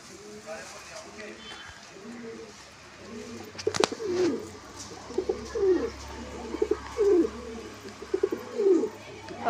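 Pigeons coo in repeated soft, throaty phrases close by, rising and falling in a steady rhythm, while someone talks over them and a sharp knock sounds once.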